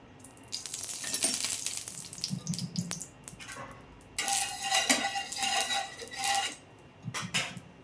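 Besan-coated roti cooking with oil on a tawa, bursts of hissing sizzle rising and falling in waves, with a few low clinks and scrapes between them, close by and without speech.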